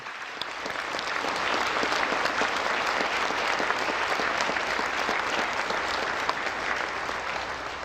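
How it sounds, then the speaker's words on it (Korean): An audience at a national prayer breakfast bursts into loud, sustained applause, dense clapping filling the whole stretch with no voices. "같이 한번 뜨거운 박수로 했습니다."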